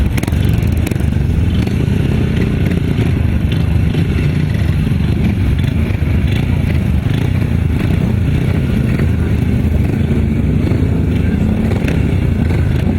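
Sidecar motorcycles racing on a grasstrack, a continuous loud engine roar with revving and clatter throughout, close and steady with no pauses.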